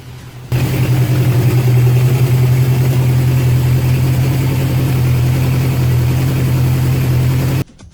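A 1972 Honda CB750 motorcycle engine catches after a kickstart and settles into a steady, loud, close idle with an even low throb, cutting off abruptly near the end.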